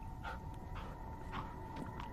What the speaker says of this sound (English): Yeah, good dog.